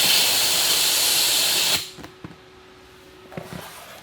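Air hissing out through a spring-loaded inlet, a loud steady rush that stops abruptly partway, followed by a few faint clicks and knocks in near quiet.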